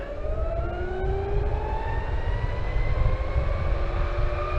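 Onsra electric skateboard with 105mm Cloudwheels and 40-tooth pulleys at full throttle in speed mode 3, its motors giving a loud, steady whine that rises in pitch over heavy rolling wind rumble.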